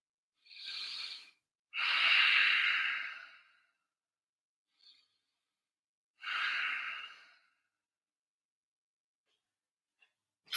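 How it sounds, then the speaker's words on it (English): Slow, audible breaths in Ujjayi style during a vinyasa yoga practice: three long airy exhalations, close and soft, separated by quiet pauses, with no talking. "As you bring yourself back to your Ujjayi breath if you lost it."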